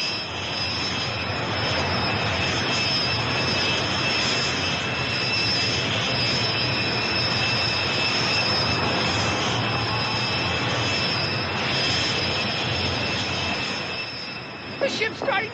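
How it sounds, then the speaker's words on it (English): Rocket engines ignite and roar in an audio drama sound effect, a loud, sustained broadband rush that holds steady for many seconds before tailing off at the end. "Ignite the rocket engines."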